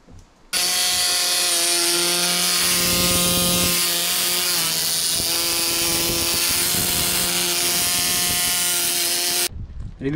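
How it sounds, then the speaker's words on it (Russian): A hammer drill with a 20 cm bit boring into concrete, running loud and steady for about nine seconds with a harsh whining roar, then cutting off abruptly. "бур 20 сантиметров длиной, больше чем наполовину пробивает бетон"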